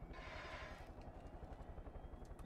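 Helicopter in the video game Far Cry 5, a steady rotor chop pulsing evenly throughout with a low engine drone, fairly quiet and continuous, no one talking over it.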